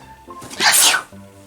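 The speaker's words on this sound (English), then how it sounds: "More sneezing." A single loud sneeze bursts out mid-clip, sharp and breathy, with quieter background sounds before and after.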